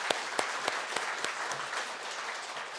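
A church congregation applauds the choir, conductor and accompanist, a dense and steady wash of clapping with a few sharp claps standing out near the start, close and continuous throughout without speech.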